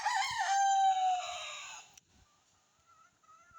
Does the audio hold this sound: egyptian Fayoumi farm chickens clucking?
yes